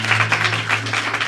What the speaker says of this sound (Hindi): ताली बजा तो अच्छे से बजा